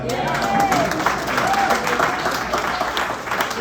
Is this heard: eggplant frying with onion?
no